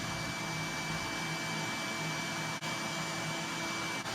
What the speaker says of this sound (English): Raise the blade 1/8 inch above the workpiece and carefully make the cut.